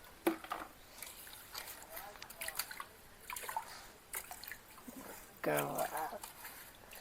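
Rice is rinsed in water by hand in a home kitchen, giving soft splashes, swishes and drips with a louder slosh near the end, under quiet talk.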